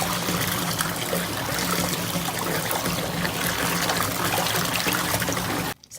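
Water runs steadily into a bath filled with bubble mixture, a continuous close trickling and splashing wash that stops abruptly at the very end.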